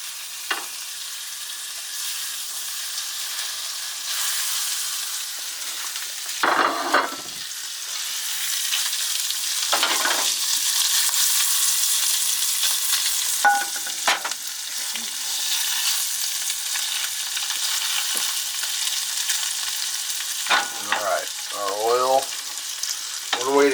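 Steady, broad crackling sizzle of hot oil in a frying pan for breadcrumbed fish, continuous throughout with occasional louder pops and brief stirring scrapes.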